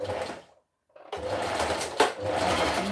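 A sewing machine runs a zigzag stitch along a pants inseam in fast, buzzing bursts, stopping briefly in near silence before whirring on again, close and clear.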